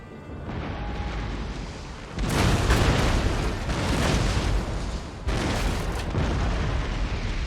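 Cannon fire in a naval battle in Empire: Total War, heavy booming broadsides rolling in dense overlapping bursts, with a big volley near the start and another a few seconds later, loud and continuous with no talk.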